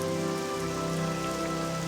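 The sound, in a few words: rain falling before a hurricane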